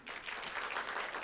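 Brief, fairly faint applause from a church congregation during a Friday evening worship service, an even patter of clapping with no voices over it.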